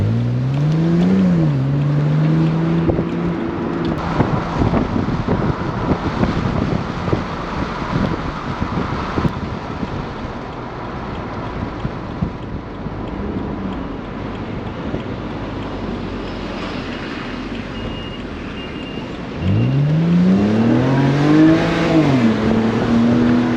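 A 2011 BMW Z4 sDrive30i in sport mode accelerates, its engine note climbing in pitch through gear changes and rising again near the end, under heavy wind and road rush, with no talk.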